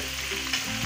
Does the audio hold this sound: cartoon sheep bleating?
no